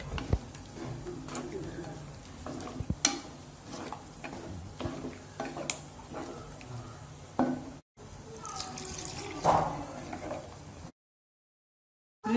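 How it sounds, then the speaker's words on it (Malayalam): A spoon scrapes and ticks through Kerala-style prawn theeyal curry with ground paste and water in a pan, under a soft simmer. A voice is heard at times, and the sound cuts out briefly before the end. "ഇളക്കിയിട്ടു"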